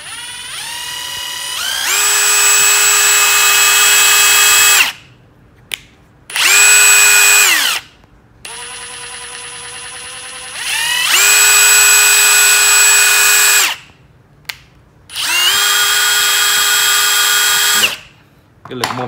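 A power drill fitted with a FAMAG 1598-758 right-angle attachment and a wood bit runs loud and close. It whirs in five bursts, and each burst ramps up, holds a steady high whine, then spins down between brief silences.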